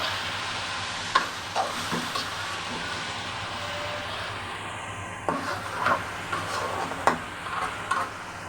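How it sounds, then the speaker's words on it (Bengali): Chopped onion, garlic and chillies frying with greens in oil: a soft, continuous sizzle under a low hum, broken by occasional scraping stirs and utensil taps. "শাকটার সাথে আমি পেঁয়াজ কুচি, তেলে মাখানো পেঁয়াজ কুচি, রসুন কুচি আর মরিচগুলো একটু ভেজে নিচ্ছি।"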